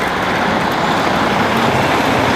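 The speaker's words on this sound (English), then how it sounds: "it's already a problem that there's a fucking 18-wheel semi coming up behind me" Heavy road traffic rumbles close by on a busy Toronto street, a large truck coming up behind a cyclist, giving a loud steady broadband roar with no talking.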